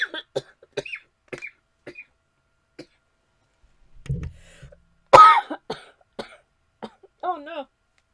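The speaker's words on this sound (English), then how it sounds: "I'm so sorry that you had to hear me cough just then." A single harsh cough bursts out near the middle of a quiet stretch, loud and close. It sits among faint clicks, brushing sounds and a few soft vocal noises.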